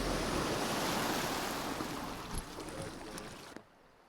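Loud rushing water roars close by, a dense wash of sound that eases slightly before cutting off near the end.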